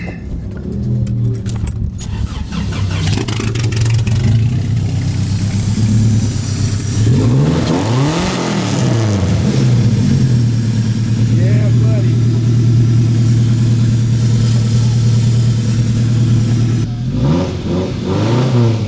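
A supercharged truck engine idles with a deep rumble, then revs up several times with rising and falling roars; a voice briefly speaks near the end.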